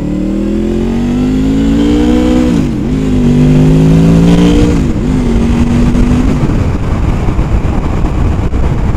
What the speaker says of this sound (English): That was the VTEC kicking in.